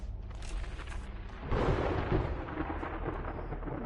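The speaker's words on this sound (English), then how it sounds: "The storm is still going, though." Thunderstorm in the survival game 7 Days to Die: a deep, broad rumble of thunder swells in about halfway through and rolls on steadily over a constant wash of storm noise, with no voices.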